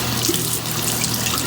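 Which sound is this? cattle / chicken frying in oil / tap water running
tap water running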